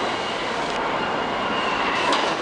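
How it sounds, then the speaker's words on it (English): An R46 subway car on the F line runs steadily nearby, a dense, continuous rumble and roar with faint rail hiss and a slight rise toward the end. "R46 F Train in all its glory."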